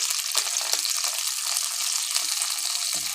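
Water poured into a hot pan while making cashew upma, producing a bright, continuous sizzle and bubbling hiss, close and fairly loud, with no talking.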